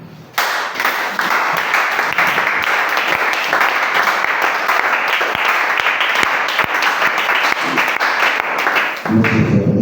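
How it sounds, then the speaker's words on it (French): A church congregation applauds together at a worship service in a French-speaking tabernacle, a dense, loud, sustained wash of clapping that runs nearly unbroken, with a brief shift in the crowd noise at the very end. "Levons-nous et acclamons la parole."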